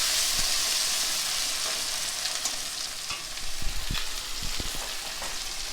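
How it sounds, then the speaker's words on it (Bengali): Chopped tomatoes sauté in a pan for chana, with a continuous close sizzle broken by scraping stirs and soft spatula knocks that grow busier midway. "আর দিয়ে দেবো আমি টমেটো কুচি। একটু ভালো করে কষিয়ে নেব।"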